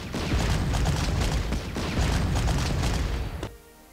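Sustained gunfire from Bulgarian units in the wartime strategy game Panzer Corps, a dense rumbling barrage with booming bursts that runs steadily before cutting off abruptly near the end.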